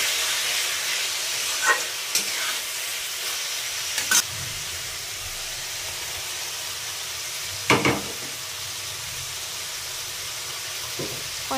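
Chow mein noodles fry in a pan with salt and pepper, giving a steady close sizzling hiss with a few sharp clinks and scrapes as they are stirred.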